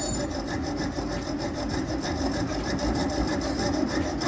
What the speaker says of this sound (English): What are you sawing apart?